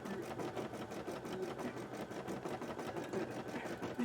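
An embroidery machine stitches a large design onto cosplay fabric that has not been fully tightened, giving a steady, continuous mechanical whirr and rapid needle chatter at close range, with no talk.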